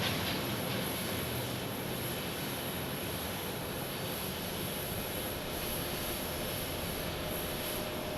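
A United Airlines Boeing 737 landing at an airport produces a continuous, heavy broadband jet roar with a faint high whine on top, steady and loud across the whole stretch, with no voices.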